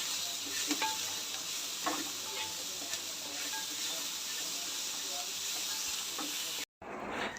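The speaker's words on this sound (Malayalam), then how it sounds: "അപ്പോൾ ഇതിനാവശ്യമുള്ള ഉപ്പൂടി ഇട്ടിട്ട് ഇതൊന്ന് വഴറ്റിയെടുക്കട്ടെ ഹൈ ഫ്ലെയിമിൽ" Masala bread mixture with salt sautéed on high flame in a steel pan, a steady broadband sizzle with occasional stirring scrapes throughout, briefly cut off near the end before resuming.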